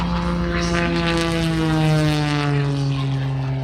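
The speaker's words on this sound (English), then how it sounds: "He called this biplane Prometheus" Prometheus II, an aerobatic biplane at EAA AirVenture Oshkosh 2025, drones loudly overhead with a steady propeller and engine tone that rises slightly in pitch as it passes close.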